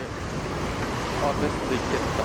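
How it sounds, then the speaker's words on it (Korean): Strong ocean waves surge and wash continuously at a beach during a snorkeling and dolphin tour in Africa, a steady broad roar with wind noise on the microphone and faint voices in the background. "근데 오늘 너무 바다에 파도가 세요"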